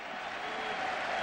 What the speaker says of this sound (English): And the Big Red applauding